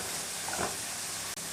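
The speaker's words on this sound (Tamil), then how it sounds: "எல்லாத்தையும் சேர்த்து நல்லா வதக்கிடலாம்." Spinach and garlic saute in a pan as keerai poriyal is made, giving a steady, soft sizzling hiss that swells slightly midway, close and continuous with no talking.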